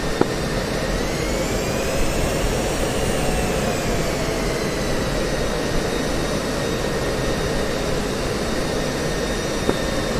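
A jet aircraft landing in the DCS flight simulator game gives a steady, loud engine roar with a high whine that rises and falls. It holds constant for about ten seconds, with no talk over it.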